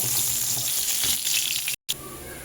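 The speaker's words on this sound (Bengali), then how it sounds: "মাছগুলোকে আমি কড়া করে ভেজে নিয়েছি।" Katla fish pieces fry crisply in hot oil over a high flame, a loud dense sizzle filling the clip, broken by a brief moment of silence before the crackle resumes more softly.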